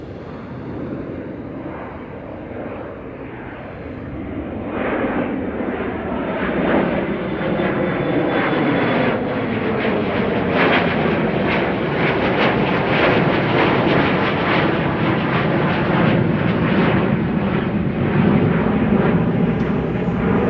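KLM Embraer 175 jet airliner departing Amsterdam Schiphol for Göteborg: engine thrust swells sharply after a quieter start into a loud, sustained roar with a pulsing rumble and some wind buffeting on the microphone.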